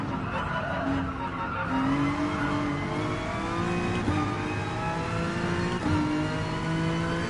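Ford Mustang race car in a PS4 racing video game, engine revving and shifting through rising pitch sweeps with tire noise, continuous and fairly loud.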